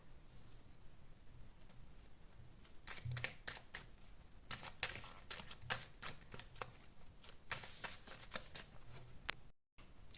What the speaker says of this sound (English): I'm going to pull some cards of advice.